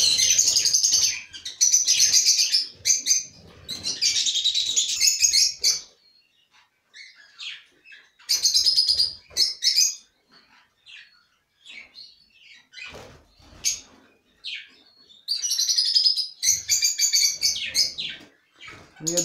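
Pet parrots chirp and chatter loudly nearby in bright, rapid bursts, separated by brief pauses and scattered softer tweets.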